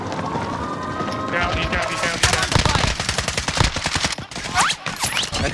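Rapid bursts of automatic gunfire and shots in an online multiplayer shooter game, loud and dense, with players talking over the action throughout.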